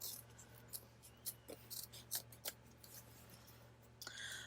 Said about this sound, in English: I'm actually just going to cut out one of these little pieces.